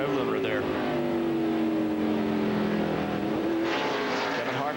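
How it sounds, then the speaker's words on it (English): NASCAR Cup race car at Martinsville in 2003, its engine holding a steady high-pitched drone against the rev limiter, loud and continuous beneath an announcer's voice and crowd noise. "I hear him on the rev limiter there."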